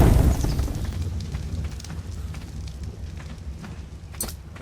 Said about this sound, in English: Light the fire there. You can light the fire with just pressing E.